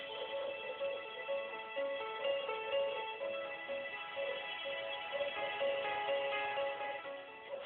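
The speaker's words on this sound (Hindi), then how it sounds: "प्लीज कम से कम आज के दिन तो फोन उठा लो मेरा जोसेफ।" A phone ringtone plays as a looping melodic pattern, steady and moderately quiet, repeating without pause and with no voices over it.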